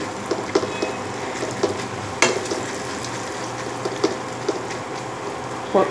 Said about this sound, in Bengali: পাতলা পাতলা করে ঢেঁড়স ভাজা করছি